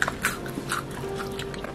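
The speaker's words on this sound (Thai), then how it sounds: "โอ้ฟังเสียงนะคะกรอบกรอบกรอบกรอบกรอบเลยนะคะกรอบกรุบค่ะ" Crispy flour-coated French fries crunch in a quick, close run of sharp bites and chews, several brittle cracks in under two seconds with no one speaking.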